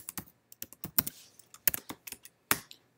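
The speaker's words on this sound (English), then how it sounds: "and then type hello world" Computer keyboard typing a short line of Python code, in quick irregular bursts of crisp clicks with brief pauses, close and alone.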